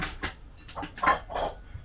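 A kitchen cupboard is opened and a bowl taken out: a handful of short clatters and knocks spread over about two seconds, fairly quiet and close, with no talking.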